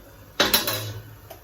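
Kitchen utensils are set down in a home kitchen, making a quick pair of clattering metallic clinks close by. A faint rattle follows at the end, and no voices can be heard.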